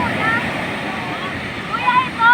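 Ocean waves surge and roll in at the shore with a continuous washing rush and wind buffeting the microphone, swelling louder at the end as a bigger wave arrives, while excited voices call out.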